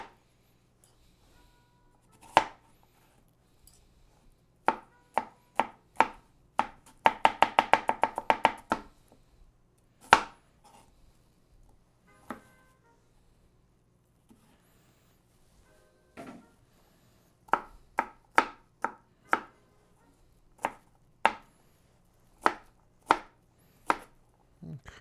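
A knife chops cucumber for gazpacho on a cutting board, sharp close knocks spaced irregularly with one quick rapid burst of cuts and quiet pauses between.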